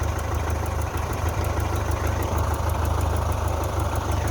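A Belarus 510 tractor's diesel engine idles steadily and loudly up close, a continuous low rumble with a rapid mechanical ticking running evenly throughout.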